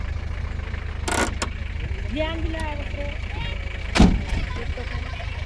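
A vehicle engine idles steadily, a low continuous hum throughout, broken by a couple of sharp knocks around the one- and four-second marks, with faint voices in the background.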